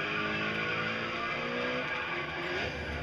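Racing car drifting in GRID Autosport, a continuous loud engine roar with sliding tire squeal through the whole stretch, steady and close with no voices.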